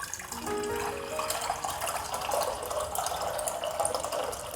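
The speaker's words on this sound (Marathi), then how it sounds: "शेंगदाणे बुडतील एवढं पाणी टाकायचं आहे." Water pours into a cooking pot for salted peanuts, a steady, fairly soft splashing stream that keeps running throughout.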